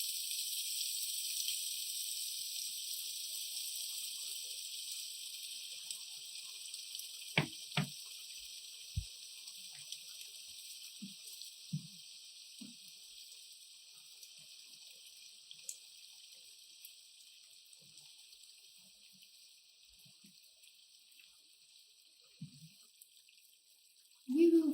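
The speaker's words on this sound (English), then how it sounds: "Hot water." Hot water runs steadily from a kitchen tap while a turkey is being cooked, a continuous broad hiss with a few faint clicks and knocks, ending with a louder bump.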